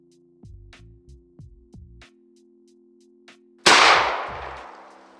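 A shotgun fires a Kent Ultimate Fast Lead 1 1/4 ounce load: a few light mechanical clicks and knocks, then one loud, close blast whose roar trails off over about a second.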